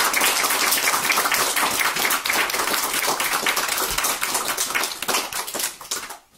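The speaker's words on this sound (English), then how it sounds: "I'd like to give her a big round of applause." A small recital audience claps for the home coach of an eight-year-old pianist, brisk, close applause that carries steadily for about six seconds, then stops abruptly.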